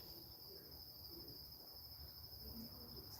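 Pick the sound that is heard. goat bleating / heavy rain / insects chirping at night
insects chirping at night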